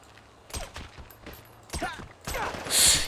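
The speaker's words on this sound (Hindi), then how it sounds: "उसने गोली चला दी" Gunfire in GTA 5 gameplay: a few sharp shots spaced out, ending in a louder, brighter burst, with voices speaking softly in the background.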